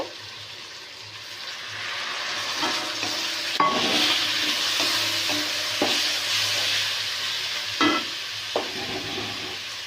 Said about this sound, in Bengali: আর এক চামচ জিরে, এক চামচ ধনে নিয়েছি, দিয়ে দিচ্ছি।